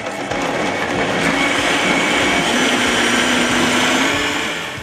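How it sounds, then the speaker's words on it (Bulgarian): A blender whirs steadily at full power, grinding a potato-based vegan cheese mixture, a dense continuous grinding roar with a slight rising hum, loud and close, no voices. "всички съставки се изсипват в каната на блендера и играта започва"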